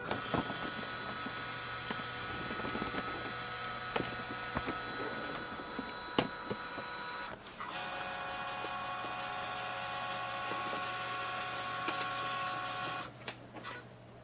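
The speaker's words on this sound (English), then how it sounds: "hit the scan button here and just wait for the scanning to be done" A Brother HL-L2390dw printer scans a document, giving a steady mechanical whir with a high whine and faint clicks; the tone shifts midway and again near the end as the scan head moves.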